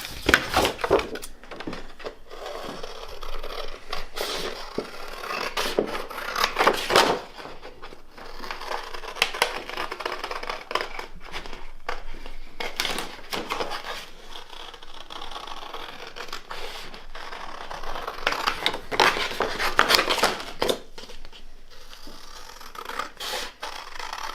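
Fabric being cut out by hand for a custom gear stick boot, with scissors snipping and cloth rustling in irregular bursts, fairly close and moderately loud, no talking.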